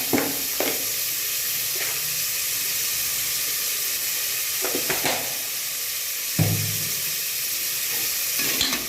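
Onions softening in a hot pan with a spoonful of salt, a steady sizzle and hiss under occasional scrapes and stirs of a spoon, close and moderately loud with no talk.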